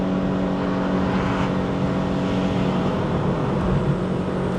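A 2026 Proton Saga Premium CVT climbs a mountain road toward Genting in Malaysia, its engine holding a steady, even drone with constant road and tyre noise heard from inside the cabin, no voices.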